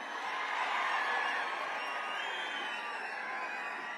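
A large crowd at a political rally in Siddipet, Telangana, cheers and roars in a steady, dense wash of voices at a distance, without distinct individual claps.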